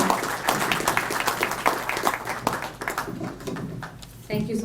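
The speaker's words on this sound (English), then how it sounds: "So please give a round of applause for our Dr." Audience at a community spring event applauding a doctor, scattered sharp claps tapering off, followed by a voice beginning to speak near the end.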